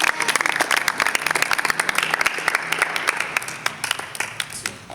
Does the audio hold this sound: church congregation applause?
yes